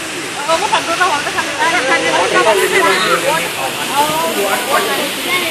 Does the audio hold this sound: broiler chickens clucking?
no